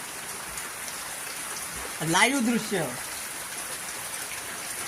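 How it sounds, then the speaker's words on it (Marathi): Steady heavy rain pours down in Naradawe village, Kankavli taluka, Konkan, a dense even hiss throughout with a brief voice rising over it midway. "कोकणात ह्या नरडवे गावामध्ये कणकवली तालुक्यातील नरडवे गावामध्ये असा पाऊस पडत आहे"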